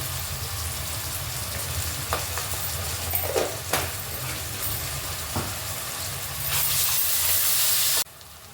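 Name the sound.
ginger garlic paste frying in a pan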